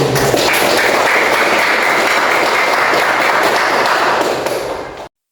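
A classroom of students breaks into loud, sustained applause for a classmate, dense clapping that continues evenly and then cuts off abruptly at the end.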